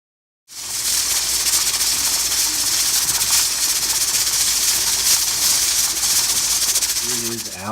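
Steam hisses from a pressure canner holding jars of venison BBQ, a loud, steady rushing hiss that starts abruptly and runs evenly for about seven seconds.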